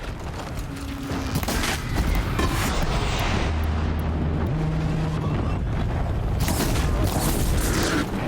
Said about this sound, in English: Oh, that's a fancy new cannon you guys popped up.